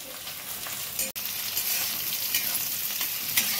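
Chopped garlic, onion and green chili sizzle steadily in hot oil as they are stirred, a loud continuous crackle with one brief scrape partway through, alone without voices.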